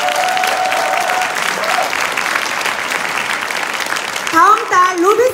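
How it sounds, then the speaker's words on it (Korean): Audience applause at a multi-level marketing seminar in a Hyatt hotel ballroom, a dense, steady wash of many hands clapping throughout, with voices and a short tonal cue rising near the end. "크게 박수 치겠습니다"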